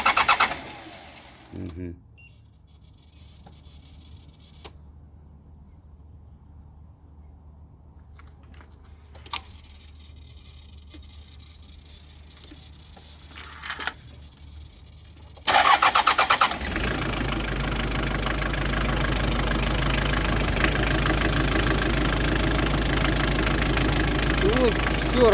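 A Hyundai Terracan 2.5 diesel D4BH engine is started after repair: after a quiet stretch with brief clicks and a short word spoken, the engine cranks and catches around the midpoint, then settles into a loud, steady diesel idle.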